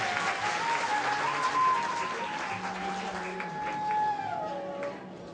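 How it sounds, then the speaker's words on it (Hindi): Applause from a devotional gathering during a discourse on Rukmini's marriage, sustained clapping mixed with a wavering high tone, steady and moderately loud before tapering off at the end. "भाई तालियों की गड़गड़ाहट बंद क्यों हो जाती है आपकी?"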